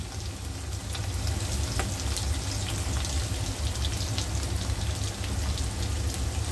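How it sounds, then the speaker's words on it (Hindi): Crushed garlic and dried red chillies fry in a pan for kaleji peta masala, a steady close sizzle with dense crackling spatter running throughout, with no talking. "ये लहसुन, इसको थोड़ा सा फ्राई कर लेना है।"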